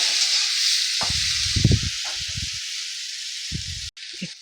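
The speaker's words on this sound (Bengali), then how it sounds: "একটু হলুদ দিয়ে দিচ্ছি, আর একটু একটু লবণ দিয়ে দিচ্ছি। দিয়ে আমি এটাকে ভালো করে ভেজে নেব।" Bitter gourd fries in a pan with turmeric and salt, giving a steady bright sizzle throughout, with a few low knocks of stirring and handling and a brief dropout near the end.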